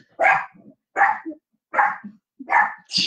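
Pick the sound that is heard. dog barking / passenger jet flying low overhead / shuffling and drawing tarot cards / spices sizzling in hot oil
dog barking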